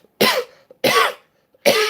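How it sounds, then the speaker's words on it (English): A man coughs three times, each cough sharp, close and harsh, with a short, evenly spaced pause between them and no speech. "That's the Corona neck cough."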